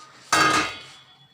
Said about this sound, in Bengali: প্যানে নিয়ে নিলাম কুমড়োর পাতা